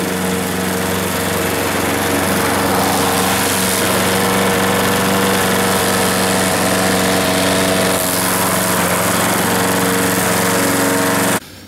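Lawn mower cutting grass left unmowed for two to three weeks: a loud, steady engine drone close to the microphone, running without pause for about eleven seconds before cutting off abruptly, with no talking.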